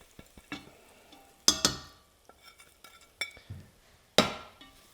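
Garlic, ginger and spices for a chickpea curry stirred in a drying pan, with scattered scrapes, clinks and two sharp loud utensil strikes over a faint sizzle, no talking.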